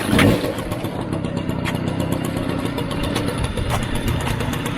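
A Peugeot Vogue moped engine, started by pressing a lever with no key or battery, catches after a brief louder burst and settles into a steady, close mid-pitched idle running alone.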